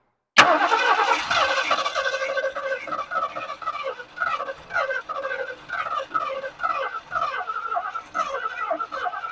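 A 1979 Lincoln Continental, abandoned for 32 years and primed with starting fluid, cranks over and over in a steady rhythmic churn that starts abruptly and stays loud and close throughout without catching.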